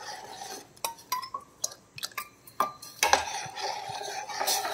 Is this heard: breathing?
no